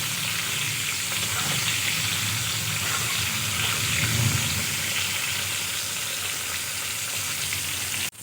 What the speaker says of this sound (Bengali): এই পটলগুলো একইভাবে ভেজে নেব।